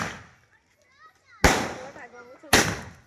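A fireworks shot cake fires during Diwali celebrations, two loud sharp bursts in series with crackling tails, preceded by quieter background noise and voices.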